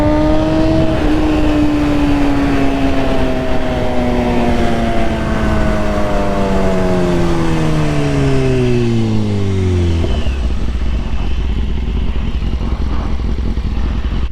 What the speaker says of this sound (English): That's a big ass truck.